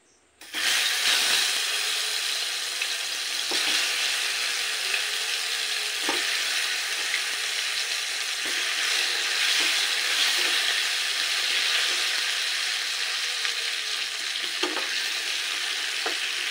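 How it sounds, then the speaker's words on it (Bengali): Taro pieces fry in two spoons of mustard oil in a small wok on a gas stove, giving a loud continuous sizzle close up, with occasional scraping clicks of stirring and no talking. "এবার প্রথমে আমি কচুগুলোকে একটু লাল করে ভেজে নেব"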